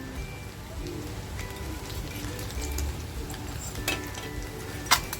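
Eggs fry in hot oil for an egg tikka masala: a steady, close sizzle with crackling hiss, a few sharper spits and pops near the end, and no voices.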